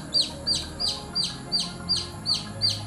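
A small chick peeps in a steady series of about nine sharp, high chirps, evenly spaced and fairly close, with no other sound competing.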